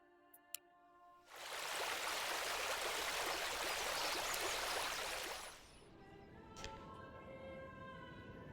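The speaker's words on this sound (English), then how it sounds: "Yes, it is. It's a very small river." A very small river in the medieval city-builder Manor Lords gives a rushing, hissing flow that swells in abruptly, holds steady for about four seconds, then drops back to a quieter ambience with faint clicks.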